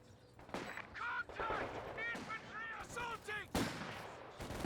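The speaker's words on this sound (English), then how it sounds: "He's going to receive some flame bursts now, as well as STG fire." Bursts of StG rifle and machine-gun fire crackle through a Company of Heroes 2 battle, arriving in short irregular volleys over the game's background din, with a louder burst near the end.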